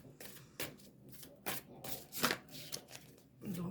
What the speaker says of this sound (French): On va tirer une petite carte de l'oracle de Gaïa